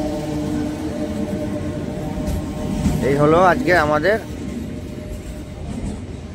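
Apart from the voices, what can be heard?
MEMU train arriving at platform 5, Azimganj Junction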